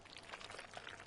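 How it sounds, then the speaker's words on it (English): Running water in Ark Survival Ascended, a steady faint pouring and trickling wash that runs evenly through the short moment with no break. "Why can I hear running water?"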